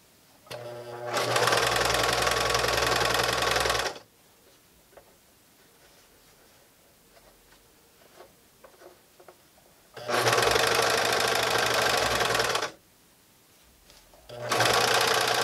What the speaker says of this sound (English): What we're going to do is sew this entire curved line